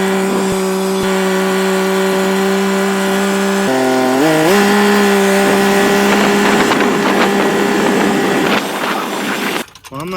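A tractor engine runs steadily while hauling a load of sand for a chicken dust bath, a loud, sustained drone with a brief pitch shift midway as it changes speed, then a clatter near the end.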